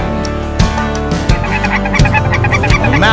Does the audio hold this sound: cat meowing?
no